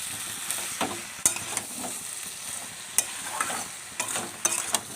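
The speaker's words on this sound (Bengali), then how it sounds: "দেখুন কষানো হচ্ছে পুরো মশলা" A spice masala for a jackfruit and potato curry, cooked down without water after a little sugar goes in, sizzles and scrapes in a pan under a ladle, with irregular sharp stirring knocks over a steady frying hiss.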